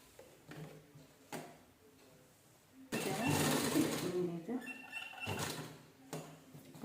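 A sewing machine stitches a fabric strip onto a ready-made mat, whirring close up in a steady run with short ticking starts and stops, while someone talks over it.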